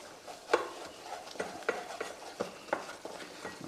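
A melted butter and flour roux is stirred in a saucepan, giving a faint, soft sizzle under a series of light, irregular scrapes and taps of a utensil against the pan, close and quiet with no voices.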